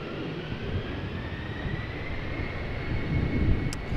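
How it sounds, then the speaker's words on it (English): A Boeing 737 MAX 8 in new livery approaching at an airport, a sustained jet rumble with a slowly rising whine that builds gradually in loudness toward the end, heard alone without speech. "the new liveried MAX 8 is also coming this way"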